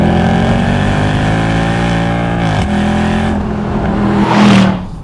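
A Mercedes C63 AMG Black Series V8 revs hard and climbs in pitch, drops briefly at a gear change, then surges again to a loud roaring peak.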